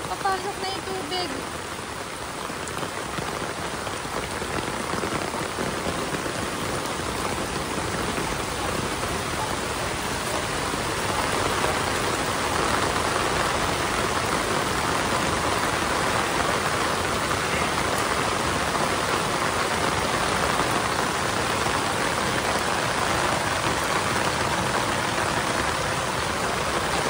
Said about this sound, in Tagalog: Pag ganitong hindi titigil ng ulan, nagalalim talaga ang tubig.